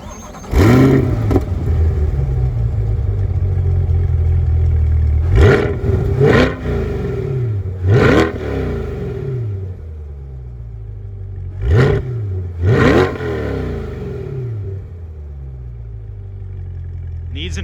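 A stock C8 Corvette fires up, then settles into a low idle punctuated by several sharp blips of the throttle, each rev rising and falling quickly, heard close and loud with no talking.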